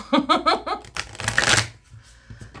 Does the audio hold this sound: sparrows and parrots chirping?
no